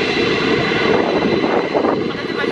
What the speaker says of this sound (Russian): смотрите, двухэтажный Airbus